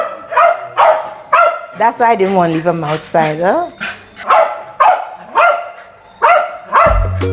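A dog on a theatre stage yelps and yips in short bursts, with a rising whine in the middle, while someone talks over it; the barking is loud and close.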